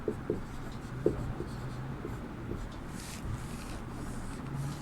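A teacher writes a heading on the board in a classroom, producing faint scratchy strokes and occasional taps, close and quiet, with no talking.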